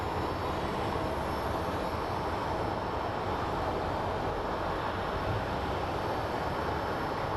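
Airliner jet engines at Phoenix Sky Harbor airport make a broad, steady roar heard from a distance. It holds at an even level for several seconds with no voices.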